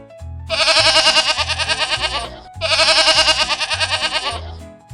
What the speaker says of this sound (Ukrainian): А це хто? Це коза.